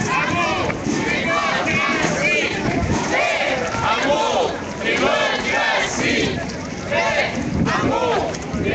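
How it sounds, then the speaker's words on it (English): A large protest march crowd chants in French in rhythm, the voices loud and dense, with steady wind noise over the microphone. "We've got a call in French from the crowd here"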